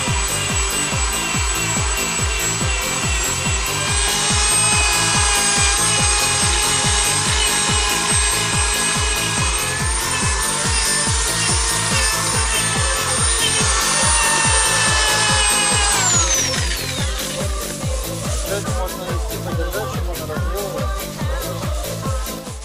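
Power tool polishing cloudy headlights on a Daewoo Matiz, giving a loud, steady whine with a grinding rub for about sixteen seconds before spinning down to a softer rattle.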